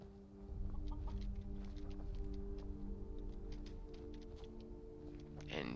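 Chickens cluck repeatedly in the video game Skyrim, short clucks scattered over a steady low ambient hum, with a louder burst near the end.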